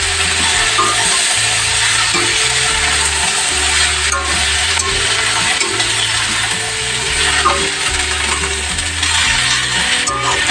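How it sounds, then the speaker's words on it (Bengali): Kulekhara greens fry in a pan while a spatula stirs them, making a loud, continuous sizzle with rhythmic scraping and clinking against the metal that runs steadily throughout, with no voices. "ভালো করে একটু ভাজা ভাজা করে নিই শাকটা"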